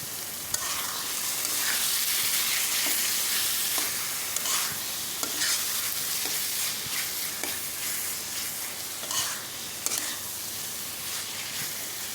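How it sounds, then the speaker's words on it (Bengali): Spices fry in hot oil with jackfruit seeds and Malabar spinach for a curry, a loud close sizzle with repeated stirring scrapes over about twelve seconds, no voices. "তো পানি দেওয়ার আগে কিছুক্ষণ ভাজবো, যতক্ষণ না উপরে তেলটা একটু ভাজা ভাজা হয়ে উঠে আসতেছে"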